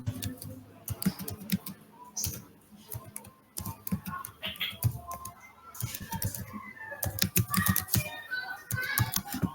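Keys clatter on a computer keyboard in quick, uneven bursts of close taps with short pauses between them, fairly quiet, no voices.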